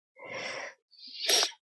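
A single person sneezes close by, with a sharp gasping intake followed by a loud burst, alone and with no talk, during a tabletop role-playing session.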